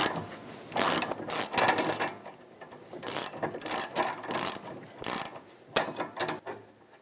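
Ratchet clicking in bursts while breaking free the rear sway bar link nut on a 2008-2012 Honda Accord, with a 14mm wrench and 5mm Allen socket; close, fairly loud irregular pawl clicks and metallic turns, no talk.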